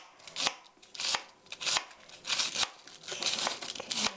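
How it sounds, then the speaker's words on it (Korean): A knife finely shreds cabbage on a cutting board for a meat sauce rice bowl, making quick, crisp, close slicing crunches in an irregular rapid rhythm. "양배추는 얇게 채 썰어서"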